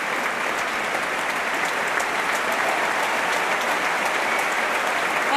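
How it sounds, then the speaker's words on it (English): Audience at the Proms cheering and applauding the BBC Symphony Chorus, a dense, sustained roar of clapping at an even level, heard alone. "And that huge cheer for the"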